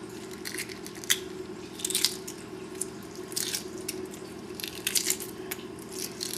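Soft crackling and tapping as a hard-boiled egg's shell is picked and peeled away, with intermittent crisp bursts over a low steady background hum.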